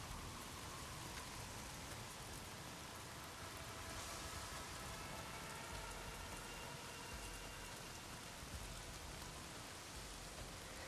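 Steady rain pours throughout a stretch of the video game Days Gone, a dense, even hiss of drops with no voices over it and a faint low rumble in the background.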